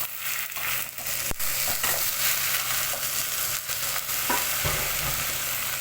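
Vermicelli fries with a steady close sizzle in a pot, then rice is poured in with a brief rushing clatter and the mixture is stirred, with no talking.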